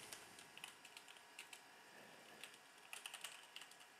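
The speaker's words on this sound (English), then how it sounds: "So you type it in like this" Someone types an email address on a computer keyboard, the keys giving faint, quick, uneven clicks in short runs over a low background hiss.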